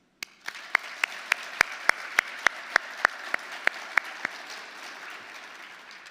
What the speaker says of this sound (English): join me in a round of applause for all of our other faculty, staff, and administrators